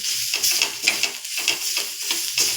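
Salt stirred into reddish frying onions in a pan, a short burst of loud sizzling with rhythmic scraping strokes of the spoon, close and continuous.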